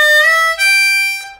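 A blues harmonica plays a repeating triplet lick, moving from a bent 4 draw to a clean 4 draw and then a 5 draw. The notes are bright, reedy and sustained, played solo and close up.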